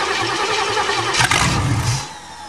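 A carbureted four-wheeler engine cranks and catches, sputtering into a short rough burst of running before dropping away, loud and close, with no talk over it.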